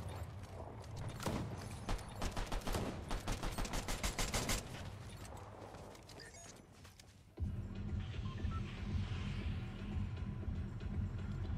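Rapid bursts of gunfire in Fortnite, loud and close, with dense repeated shots for several seconds before the action gives way to a steadier mechanical rumble.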